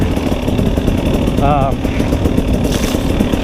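A 2018 KTM 300 enduro motorcycle lugs up a hill during a hare scramble race, its engine a steady, loud low-pitched drone running the whole time without letup.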